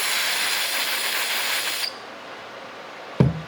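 Aerosol spray hissing steadily in bursts while a differential drain magnet is cleaned of metal fuzz during rear differential service on a Lexus GS-F, close and loud, cutting off abruptly, followed by a brief knock.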